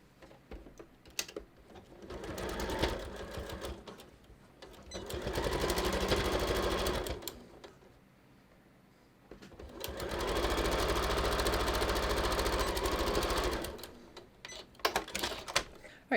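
A sewing machine stitches a non-stretch cover for a DittoForm dress form, running in two sustained bursts with a short pause between, close by, with soft handling noises at the start and end.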